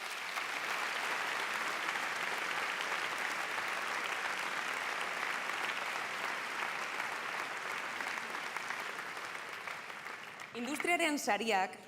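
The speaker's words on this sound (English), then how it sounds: "A round of applause, please" An audience at a film festival closing gala applauds an award winner, dense sustained clapping from a large crowd that carries on evenly before a voice cuts in at the end.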